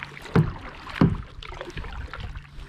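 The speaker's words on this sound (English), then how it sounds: "I'm just going to paddle at a nice speed" A kayak paddle strokes the Suwannee River, with two distinct close splashing dips followed by softer trailing water sounds, quiet and unhurried, with light wind in the background.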